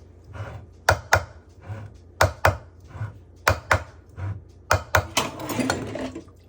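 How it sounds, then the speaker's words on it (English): A knife chops pickles on a cutting board in quick irregular bursts of sharp taps, close up, ending in a brief scraping clatter. "we're gonna start chopping some pickles"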